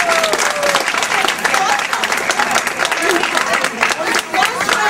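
Audience applauding children at a school annual day event, a dense, sustained wash of clapping that fills the whole stretch loudly and evenly, with some voices mixed in.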